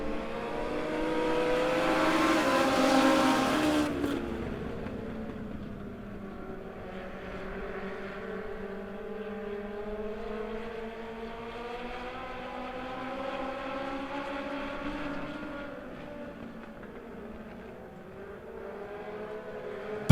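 Legends race cars at Monett Motor Speedway roar together in a pack, a loud blaring burst of engines at the start settling into a steady, sustained multi-car drone with shifting pitches.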